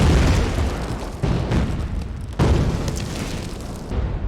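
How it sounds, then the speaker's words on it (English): Barrage of bombing explosions from a war TV series, a continuous roaring rumble with heavier booming bursts striking around the one-and-a-quarter and two-and-a-half second marks, loud and dense throughout. "That's a lot of bombings."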